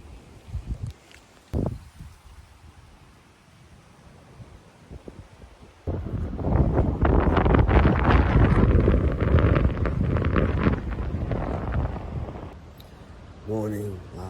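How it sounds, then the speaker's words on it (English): Strong wind gusts roar and buffet against a tent near a beach on the Southern Ranges circuit, swelling suddenly after quieter moments, then easing off near the end. "Sounds super windy outside. It's been really windy all night."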